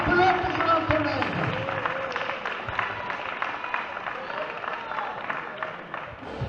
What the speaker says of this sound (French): Alors, on peut l'applaudir, il a fait partie de ceux qui ont créé la pelote girondinaise.